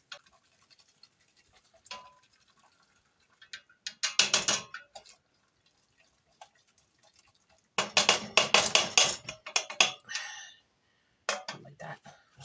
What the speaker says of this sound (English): So I'm using the baby whisk to whisk this little thing.